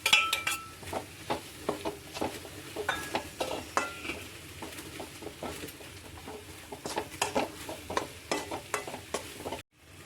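Okra curry is stirred in a pan, a spoon scraping and tapping the metal in a steady rhythm of short strokes over a low simmering sizzle, close by.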